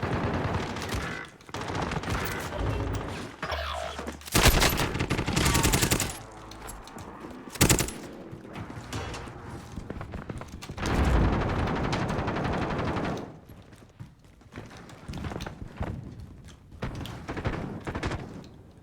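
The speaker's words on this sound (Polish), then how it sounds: "Skąd te strzały dobiegają?" Bursts of automatic gunfire and single shots in Call of Duty Warzone, loud and repeated across the stretch with dense rattling volleys and gaps, a voice occasionally talking over the battle.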